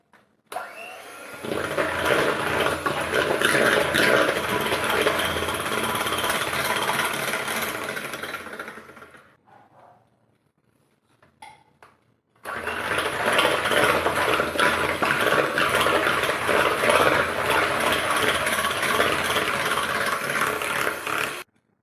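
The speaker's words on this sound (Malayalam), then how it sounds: "ഓരോ മുട്ട വീതം ചേർത്ത് കൊടുത്ത് ബീറ്റ് ചെയ്യാൻ പോവുകയാണ്" An electric mixer beats eggs one at a time into plum cake batter with a steady loud whir, pausing briefly around the middle before running again at full speed, with no voices.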